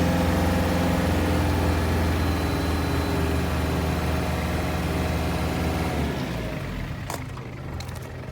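A Land Rover 90 diesel engine, smoky when revved and not revving out well, runs with a loud, steady idle rumble that drops off near the end, leaving a quieter tail.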